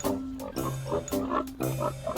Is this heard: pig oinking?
yes